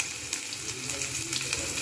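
Chopped onion sizzles steadily in hot soybean oil seasoned with panch phoron, frying a banana stem dish; a close, even hiss with faint crackle and no voices.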